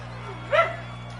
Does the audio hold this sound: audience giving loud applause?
no